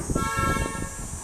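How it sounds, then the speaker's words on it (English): A car outside gives a short hum with a horn-like toot, heard at moderate level against a steady background with no talking. "Okay, maybe that car is gone now."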